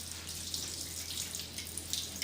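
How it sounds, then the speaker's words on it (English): A kitchen tap runs steadily as hands are washed before baking, a soft continuous hiss of flowing water heard alone, close by. "Before we start baking, we're going to wash our hands thoroughly."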